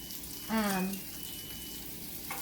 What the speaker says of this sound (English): I've got this cast iron skillet with hot